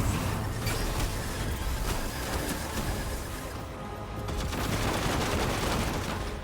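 Dense, continuous gunfire from weapons in the video game Destiny 2, a loud sustained barrage of rapid shots with a brief dip midway before resuming, no speech.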